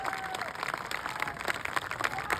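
Applause and clapping from a crowd at an outdoor festival rally in Ahiwara, steady and moderately distant, with some talk mixed in over the continuous patter.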